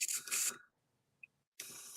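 Airbrush spraying paint for a model starship kit, heard as two loud hissing bursts of air and paint separated by a near-silent pause, with a faint click in between.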